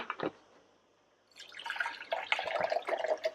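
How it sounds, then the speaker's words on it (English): Mineral water poured from a bottle into a drink mixer in a kitchen, a soft splashing trickle that builds after a quiet start, continuous and fairly close, with a short knock at the beginning. "I'm going to start off with some mineral water."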